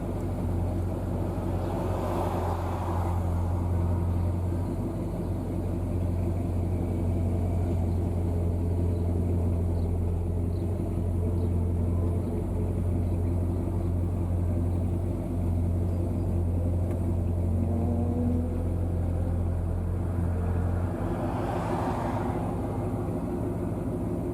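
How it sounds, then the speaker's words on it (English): Car driving the length of a town during the Pigeon Forge Rod Run, a steady low engine and road rumble carrying through the whole stretch with no talk over it. "Now I'm driving the whole length of the town."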